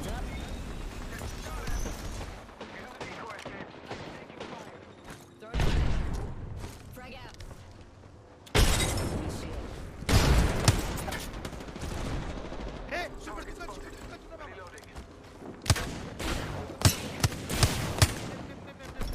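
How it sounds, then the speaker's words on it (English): Gunfire in an Apex Legends solo arena ranked match, with loud, close bursts of shots and heavy impacts broken by short quieter gaps, and spoken voices heard throughout. "Getting shot at."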